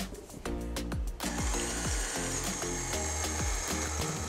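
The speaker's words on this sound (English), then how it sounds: "We're gonna mix this egg at low speed until it's fully incorporated." Electric hand mixer beating an egg into thick cookie dough at low speed, a steady motor whir with repeated knocking clatter of beaters against the bowl throughout.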